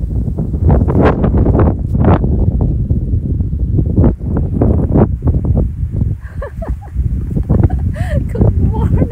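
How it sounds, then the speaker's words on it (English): Strong wind gusting hard against the microphone outdoors in cold, rainy Iceland, a loud continuous low roar and buffeting throughout, with people talking over it close by. "It's so windy here in Iceland since yesterday when we got here."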